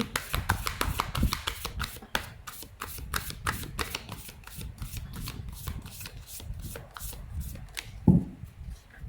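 Tarot cards being handled and shuffled close up, a quick run of crisp riffling snaps and soft slaps in bursts, with a brief low thump near the end and no talk.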